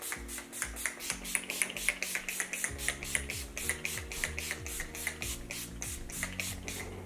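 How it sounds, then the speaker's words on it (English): Rapid repeated spritzes of Urban Decay All Nighter makeup setting spray, a steady series of short hissing bursts close by, over quiet background music. "set our makeup with the Urban Decay All Nighter Spray"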